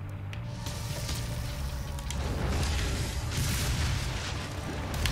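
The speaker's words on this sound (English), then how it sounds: "Have a grenade." A grenade explosion in the video game DOOM, a rumbling, sustained boom with scattered cracks and debris noise spread across the whole stretch, moderately loud.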